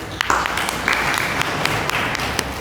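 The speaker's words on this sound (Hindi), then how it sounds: "तालियां।" An audience at a Sunday feast katha gathering claps, a brief burst of applause with scattered sharp claps over a steady background hum.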